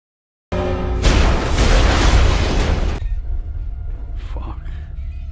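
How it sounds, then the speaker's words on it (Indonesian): In a film scene, a bomb planted in a tank at a fertilizer factory detonates with a sudden loud boom that swells into a roaring blast for a few seconds, then fades to rumbling debris as a voice is heard briefly afterward. "tiba-tiba bom yang dipasang si bapak di salah satu tangki di pabrik pupuk pun meledak"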